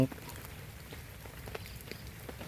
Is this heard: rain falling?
yes